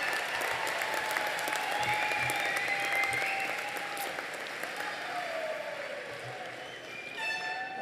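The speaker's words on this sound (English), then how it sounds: "One last a round of applause for all of our thank yous." A large audience at a high school convocation ceremony applauds in a sustained wash of clapping, with faint cheers and other sounds drifting through, continuing steadily for several seconds.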